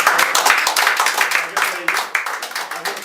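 Audience applause greets a stage performance, with dense scattered clapping that stays steady and fairly close from start to finish and no speech over it.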